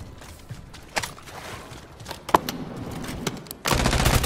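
Gunfire in the video game Call of Duty: Warzone, scattered sharp shots and cracks over a constant game background, ending in a dense, louder burst of sustained firing.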